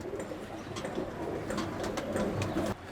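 Pigeons coo at a pigeon farm in Chittagong, a close chorus of low rolling coos repeating steadily with a few sharp clicks and light rustling.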